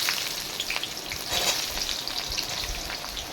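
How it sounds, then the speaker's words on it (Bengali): Chopped onion dropped into hot oil with whole cumin, frying with a steady close sizzle and crackle that runs throughout, with a brief louder swell midway. "তেলের মধ্যে কুচনো পেঁয়াজ।"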